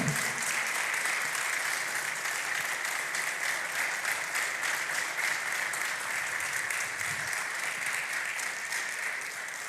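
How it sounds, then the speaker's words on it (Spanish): A church congregation applauds steadily and loudly throughout, a dense, continuous wash of clapping with no talk over it. "aplauda al Señor"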